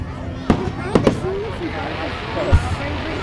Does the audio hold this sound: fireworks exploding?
yes